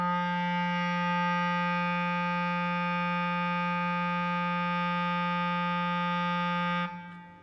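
A clarinet holds one long, steady low G for about seven seconds, rich in harmonics and even in loudness, then stops abruptly, played alone with no talking.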